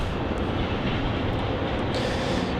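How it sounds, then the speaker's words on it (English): A Boeing 737 slows on runway 16 at Melbourne Airport after landing, producing a broad, loud, steady roar that stays level across the short stretch. "And there's that 737 slowing down there on runway 16."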